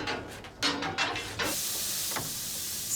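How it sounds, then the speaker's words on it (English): A steam locomotive on a heritage railway in the Cévennes hissing steam, short bursts leading into a loud continuous hiss that fills the rest of the moment, with no talking. "Coal has to be shoveled in continuously to produce enough steam."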